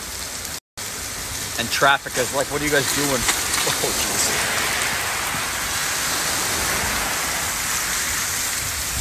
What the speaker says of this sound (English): We're just dealing with a lot of rain here.